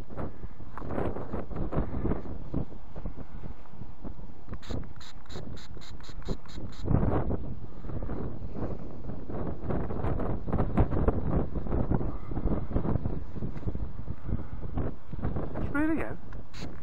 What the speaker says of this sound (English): I do apologise about the wind.